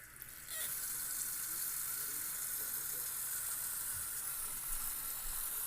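Tap water runs into a sink with a steady rushing hiss, starting abruptly and continuing without a break, close and fairly loud.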